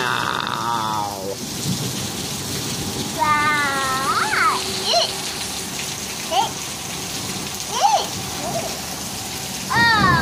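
Steady rain falls outside, a constant soft hiss throughout. A child and an adult talk intermittently over it.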